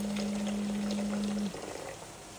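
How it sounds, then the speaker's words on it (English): Hot water poured into a cooked butter-and-flour mix for a mushroom dish, giving a close, hissing sizzle with a steady tone that cuts off halfway before the bubbling settles. "I'm gonna start with 1 cup of hot water."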